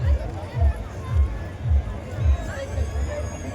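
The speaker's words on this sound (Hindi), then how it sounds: "यहाँ पे तो सुबह सुबह इतनी भीड़ हो चुकी है" Morning crowd at the Pabuji Bhil community fair in Pali, Marwar: a dense hubbub of murmuring voices with rhythmic low thumps, like footsteps or drumming, recurring roughly every half second throughout.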